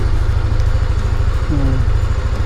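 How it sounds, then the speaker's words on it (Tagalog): A Honda ADV 160 scooter engine idles while warming up, a steady, close, low rumble running unbroken throughout with no talk over it. "Tayo, painitin din po natin yung makina natin."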